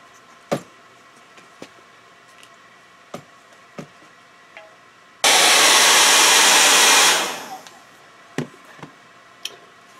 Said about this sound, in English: when we use the hairdryer, we're going to hold it further away